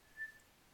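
A person whistles a short, thin, steady note imitating a morning bird, very faint and lasting under a second in a quiet room.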